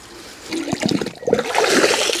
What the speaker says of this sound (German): Müssen wir natürlich gleich angießen.